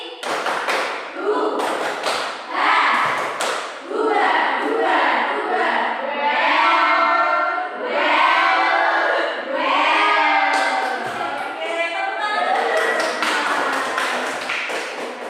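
A school class does a patterned spirit clap together, sharp unison claps and taps in a rhythmic sequence alternating with group chanting, close and loud in a classroom.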